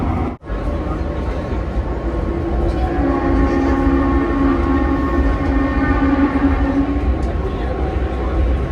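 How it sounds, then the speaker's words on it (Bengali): A Vande Bharat train rumbles loudly and steadily inside a tunnel near Srinagar, a dense roar with a sustained metallic whine rising in the middle; brief muffled voices underneath. "শুধু টানেলের মধ্যে দিয়ে ট্রেন যাচ্ছে"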